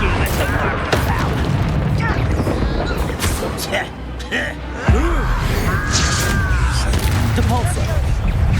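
A Confringo fire spell goes off in the video game Hogwarts Legacy, landing as a loud, deep booming blast amid a dense, continuous battle din, with voices talking over the fight.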